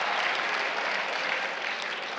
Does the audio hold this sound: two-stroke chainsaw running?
no